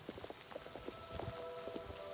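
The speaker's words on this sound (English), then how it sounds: "I'm running through the rain and through the wind" Steady, quiet hiss of rain and wind in Oblivion Remastered, with soft, rapid footfalls of a character running through the downpour.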